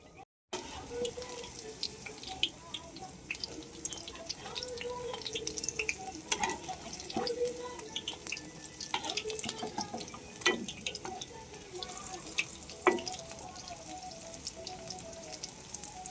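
Paneer pakoras fry in hot oil with scattered faint crackles and small pops over a soft, steady bubbling, close by and quiet throughout.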